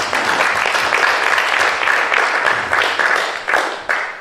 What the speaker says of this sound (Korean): 다시 한번 박수 한번 하나님 드립시다.